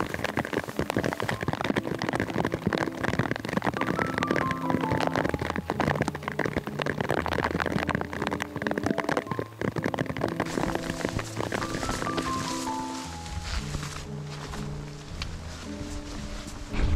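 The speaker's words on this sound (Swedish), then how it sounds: "Nu regnar det faktiskt." Steady rain falls outdoors in the Jämtland mountains of Sweden, a constant close patter and hiss lasting the whole stretch without speech.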